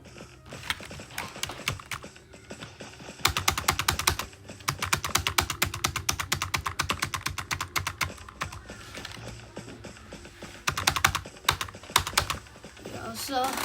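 Keyboard and mouse clicks from a Bed Wars game: rapid, dense bursts of close clicking and key tapping separated by short quieter pauses.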